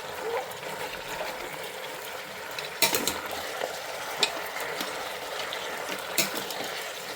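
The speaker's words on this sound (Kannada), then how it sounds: "ಈ ಥರ ಎಲ್ಲ ಮಿಕ್ಸ್ ಮಾಡಿ ನೀರು ಸುಂಡಕ್ಕೆ ಬಿಟ್ಬಿಡೋಣ." Mutton cooks down in a pan for a village-style mutton curry under a soft background sizzle. Occasional sharp scrapes and clacks come from stirring, heard up close.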